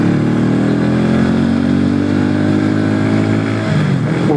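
A Hero Mavrick 440 motorcycle engine pulls hard under acceleration, a loud, continuous, rising roar heard up close for a few seconds with no talking.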